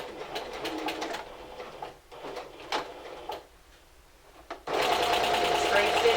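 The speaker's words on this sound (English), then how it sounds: "let's go ahead and sew that in." A home sewing machine stitches a straight seam on a Simplicity 1562 garment, its steady mechanical whir running for a few seconds, pausing, then resuming loudly and continuously at close range.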